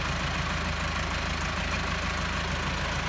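Small tractor engine idling steadily up close, a continuous low mechanical rumble with a regular pulsing beat and no voices.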